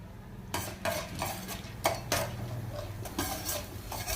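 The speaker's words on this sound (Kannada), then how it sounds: "ಕಡಲೆಬೇಳೆ, ಉದ್ದಿನಬೇಳೆನ ರೋಸ್ಟ್ ಮಾಡ್ಕೊತಾ ಇದ್ದೀನಿ ನಾನು" Chana dal and urad dal roasting in about four spoons of oil in a pan, heard as repeated scraping and clinking of a spoon stirring against the metal, with a faint sizzle beneath and no talk.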